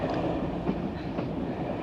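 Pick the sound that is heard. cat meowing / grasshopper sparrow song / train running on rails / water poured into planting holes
train running on rails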